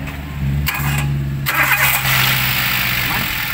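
A Toyota All New Avanza engine cranks and catches after a fan belt replacement, then settles into a steady, close, loud idle hum with no talk over it.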